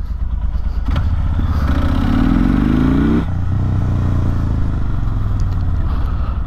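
A motorcycle engine runs close and loud, with a rising rev sweep through the middle that drops back abruptly to a steady, rumbling idle with some mechanical clatter.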